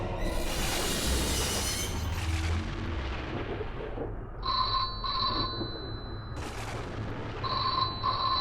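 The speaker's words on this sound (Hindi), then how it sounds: "लगता है फोन की घंटी बज रही है।" A telephone rings in two short electronic bursts, pauses, then rings again, over a loud rumbling background that fades partway through.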